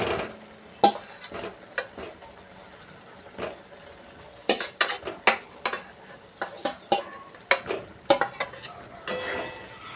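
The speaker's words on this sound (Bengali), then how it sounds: "এবার নেড়ে চেড়ে কিছুক্ষণ কষিয়ে নেব" A spoon stirs fried potatoes and coriander powder in a pan for an egg and potato dalna, making irregular metallic scrapes and clinks over a faint, low sizzle, close by and with no talk.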